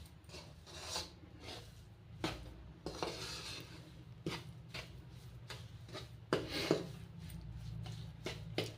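Gram flour being roasted in ghee in a pan for besan barfi, stirred with a spoon: steady soft rasping and scraping against the metal with sharper clinks at intervals, close and alone.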